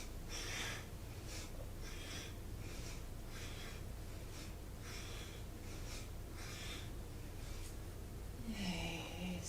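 Slow, rhythmic breathing in and out during a rocking pelvis exercise, soft airy inhales and exhales repeating about once a second, close and quiet with no speech.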